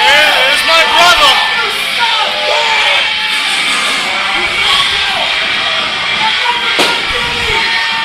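A large wrestling crowd at a Friday Nights Main Event Legacy Cup show cheers and yells steadily for a wrestler's entrance, a loud, sustained roar with scattered shouts.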